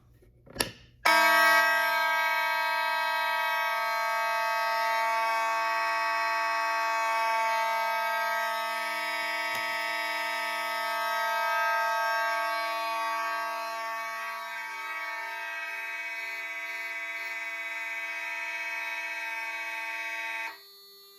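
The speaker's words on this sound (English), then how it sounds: "When this is active, the signals will sound and cannot be silenced until we reset the pole and the panel" Simplex 4002 fire alarm panel signals sounding, a loud continuous electronic alarm tone with a steady pulsing undertone, starting abruptly after a click and running unbroken for about twenty seconds before cutting off.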